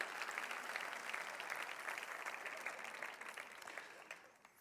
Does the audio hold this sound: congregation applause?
yes